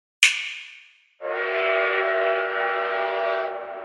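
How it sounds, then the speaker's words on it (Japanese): An anime-style train sound effect: a sharp high whistle blast fades out, then after a brief silence a steady, loud, tonal horn-like rumble of the arriving train holds for over two seconds before easing off. "列車です"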